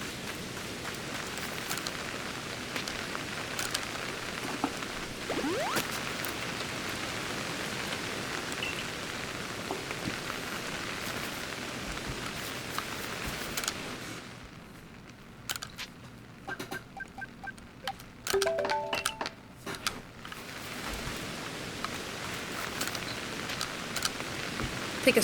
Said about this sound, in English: This is regular rain.